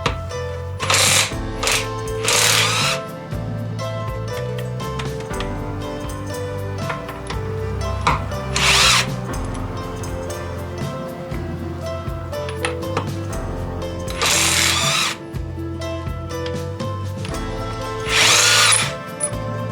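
Parkside impact wrench on its highest setting, a close, loud power tool whine with a steady pitch, cut by several sharp bursts of hammering impacts spread through the run.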